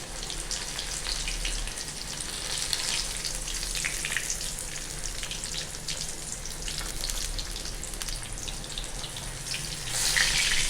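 Pieces of elephant foot yam and fish fry in hot oil, a dense crackling sizzle that runs steadily throughout and grows louder near the end, with no talking.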